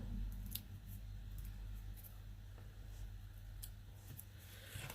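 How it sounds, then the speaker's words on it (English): Scissors trimming around the edge of paper cardstock for card making, heard as a series of quiet, close snips spread across the clip over a low steady hum, with no talking. "just go around the edge and trim, and then they create little little pieces you can use."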